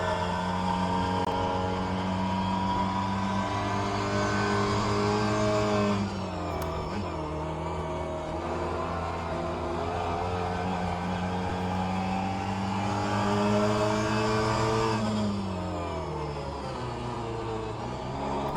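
A Mini Cooper racing around Sebring's club circuit in rFactor 2, its engine droning steadily close up, then dropping in pitch with throttle blips on downshifts before revving back up.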